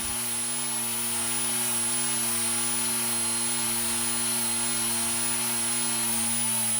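A small electric motor on an indoor scale model airplane, run by a timer, whines steadily and loudly with a high, sustained tone that climbs gradually as the speed ramps up, with no talking.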